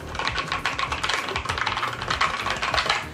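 Rapid, continuous typing on a budget RGB gaming keyboard, a dense stream of soft, non-clicky clacking keystrokes up close with no pauses.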